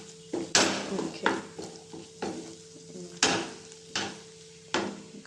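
Fried rice being stirred in a pan: repeated scraping strokes of a utensil against the metal at an uneven rhythm over a soft continuous sizzle, close and fairly loud.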